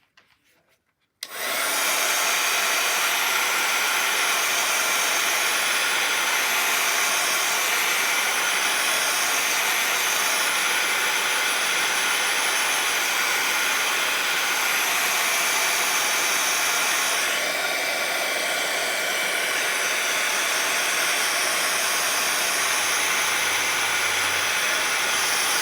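A hair dryer switches on after a second of quiet and blows in a loud, steady, close whoosh for over twenty seconds, drying a fresh watercolor painting of blooms and blossoms.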